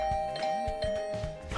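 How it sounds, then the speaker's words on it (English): Rapid flurry of doorbell rings inside a slasher-route visual novel game, a repeated electronic chime pattern heard alone at steady moderate level with no voices over it. "I didn't like the sound of that flurry of doorbell rings."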